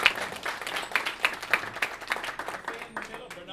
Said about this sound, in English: Can I get a big hand clap, y'all, for the leadership?